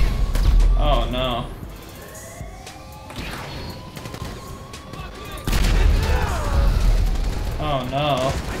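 Rapid bursts of gunfire ring out in a Dragon Ball game battle between Super Saiyan 3 Goku and the military, mixed with sirens and crashes, with people talking over the chaotic, loud action.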